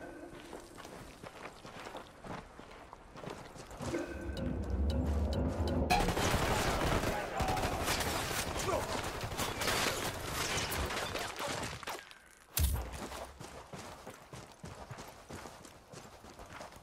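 Gunfire in the tactical shooter Ghost Recon Wildlands, a sustained rapid burst of shots in a dense, loud roar lasting several seconds, ending in a sharp final crack, over a low game ambience.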